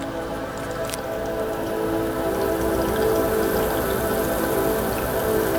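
An HHO electrolysis reactor runs after being switched on, its water bubbling and fizzing in a steady, continuous wash over a constant electrical hum, with no pauses and no voices.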